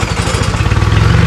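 A car engine with slime poured into it runs in a rough, rapid clatter, loud and close, its pulsing chug steady through the short stretch with no voices.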